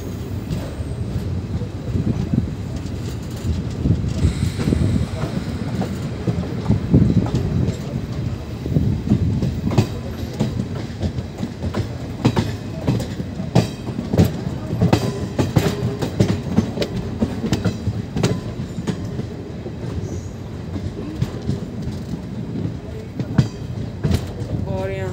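Mathura-Jaipur passenger train 04173 rolling slowly on rails past a goods yard near Alwar Junction, a steady low rumble with repeated wheel clicks on rail joints, heard from inside the coach with faint voices.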